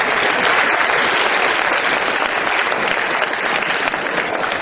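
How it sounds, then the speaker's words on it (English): Sustained applause from a school assembly audience honoring young student writers at an annual appreciation day, a loud, steady wash of many hands clapping throughout with no talk over it. "So we need to give them a big round of applause."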